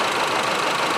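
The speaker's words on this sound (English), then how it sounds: "I believe just 1 cylinder misfire on this 4-cylinder" A four-cylinder Honda Civic engine runs rough with a single cylinder misfiring, giving a dense, steady mechanical clatter and knock that sits close and fairly loud for about a second, with no voices.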